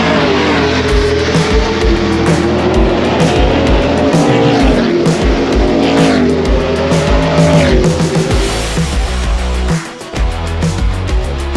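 NASCAR stock cars lap the Toronto street circuit in practice, their loud engines roaring and shifting pitch up and down through the whole stretch, tires squealing as they brake and turn, with a brief lull near the end.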